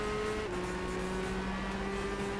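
A 1966 muscle car in Gran Turismo 6 racing on track, its engine holding a steady droning note with a slight pitch shift midway, fairly quiet and continuous with no talking over it.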